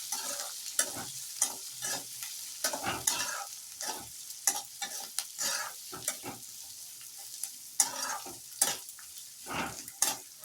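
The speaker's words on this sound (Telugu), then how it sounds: "ఆనియన్స్, కరివేపాకు, ఇవి మూడు వేసేసుకుందాం. వేసేసుకొని ఒకసారి మిక్స్ చేద్దాం." Onions, green chillies and curry leaves frying in a pan for poha while a spoon stirs them, with a constant close sizzle broken by repeated scraping stirs, no voices over it.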